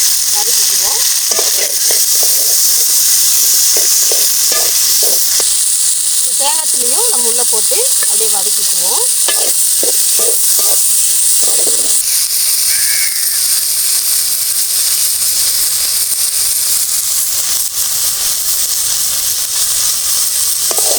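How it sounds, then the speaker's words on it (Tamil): Onion, garlic and tomato fry in a pan for a brinjal curry. The mixture gives a constant loud sizzle, with a burst of stirring scrapes and clatter partway through. "வெங்காயம் பூண்டு இந்த அளவுக்கு வதங்கணுன்னே நம்ம தக்காளியும் உள்ள சேர்த்து"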